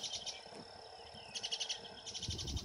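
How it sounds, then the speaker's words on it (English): A young orchard oriole calls in bursts of rapid, thin, high chirps that repeat in short clusters, fairly faint against a rustling outdoor background with insects trilling. "I could hear this young orchard oriole before I saw it."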